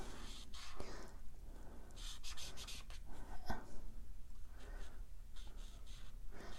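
Stampin' Blends alcohol marker rubbing and scratching across paper in repeated short strokes, a soft close-up scribbling texture with no voices.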